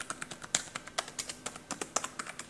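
Rapid, fairly even typing on the Acer Aspire One A531 netbook keyboard, a close run of light plastic key clicks with a few sharper taps standing out.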